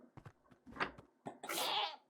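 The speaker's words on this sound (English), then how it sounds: "Oh, that's a screaming goat." A screaming goat in Minecraft Bedrock 1.19 gives short bleats that end in a loud, harsh, drawn-out scream, close and clear.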